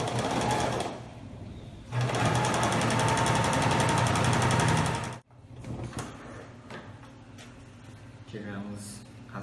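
A sewing machine stitching felt fabric for a craft bow runs in fast, rattling bursts, close and loud. The stitching stops abruptly midway, then quieter handling noises follow with a voice speaking.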